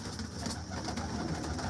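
Pigeons of a prized household breed coo in a continuous, dense murmur from several birds close together, with no talk over them.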